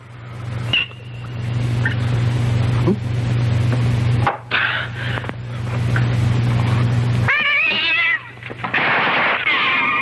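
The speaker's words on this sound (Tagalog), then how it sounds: "Boss, pusa yun." A cat meows loudly several times, including a drawn-out yowl near the end, over a steady low engine drone.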